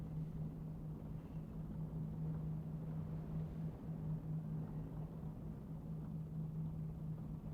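A diesel railcar engine idles in the Diesel Railcar Simulator video game, a steady low throbbing drone with a faint hum, continuous and even throughout, with no speech.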